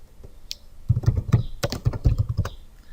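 Rapid typing on a computer keyboard while entering names into an Excel spreadsheet, a close, steady burst of clicky keystrokes with no one talking.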